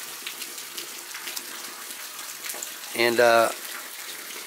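Water flows steadily beside a hiking trail after heavy rain, a continuous moderate rush heard close by, with someone speaking briefly over it.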